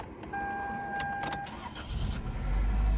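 Small Toyota car heard from inside while being driven, a low engine rumble that swells toward the end beneath a faint high electronic tone and a few clicks.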